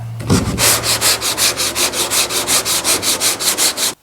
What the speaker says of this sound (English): So let me get back to sanding.